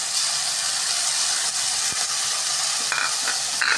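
Ground onion-tomato paste sautéing in a pan for chana masala, a loud continuous sizzle with occasional stirring scrapes toward the end.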